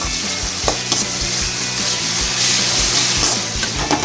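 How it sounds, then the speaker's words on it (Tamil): Onions and tomatoes sauté in a pan for vegetable pasta, giving a loud, steady sizzle with repeated scrapes and clinks from a stirring spoon and no voices. "ஸோ நீங்கள் அப்பப்போ வேகிற வரைக்கும் கரண்டியை வச்சு கிண்டிக்கிட்டே இருக்கணும்"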